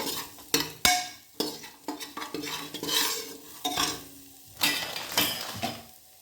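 A spoon scrapes and clinks around a metal pan as half a spoon of coriander powder and a quarter spoon of turmeric are mixed in for green chickpea rice, with irregular close strokes and a faint sizzle underneath.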